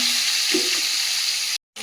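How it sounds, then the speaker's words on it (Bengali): Fish sizzling steadily in a hot pan of oil, a dense close crackle that cuts out briefly near the end, with no talking. "মাছটা সুন্দর করে ভেজে নিয়েছি"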